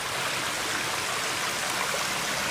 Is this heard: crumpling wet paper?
no